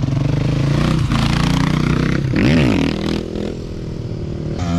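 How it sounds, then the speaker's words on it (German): Motorcycles doing tyre burnouts at a bike meet, a continuous loud engine roar with revving swells and a rising and falling whine midway, close and steady throughout. "Ah, die burnen hinten schon Reifen weg."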